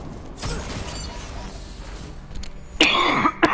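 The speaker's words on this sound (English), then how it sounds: "Sorry, I keep coughing." A person recovering from bronchitis coughs and clears their throat: one rough burst early, then a louder, harsher cluster near the end, close to the microphone over a low background hum.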